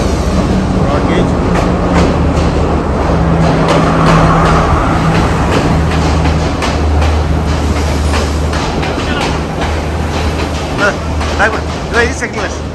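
Broad gauge Ella train in Sri Lanka arriving, a steady low rumble of rail wagons with faint clicking and scattered knocks, close and continuous, with voices murmuring underneath.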